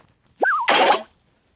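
Cannon Cart being deployed in Clash Royale gives a short cartoonish effect: a rising springy boing that wobbles downward, then a brief bright burst, all within about half a second and heard alone.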